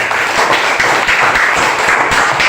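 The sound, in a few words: applause, clapping hands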